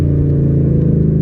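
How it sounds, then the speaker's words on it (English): A 2019 Ford Mustang GT's V8 with a manual gearbox drones steadily and loud up close as the car downshifts to second with automatic rev matching, holding a smooth, even engine note with no talk. "I'm gonna downshift to second, so you guys can see how good the auto rev match is on this car"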